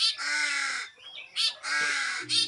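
A crow gives several harsh, drawn-out caws in a row, loud and close, with short pauses between calls.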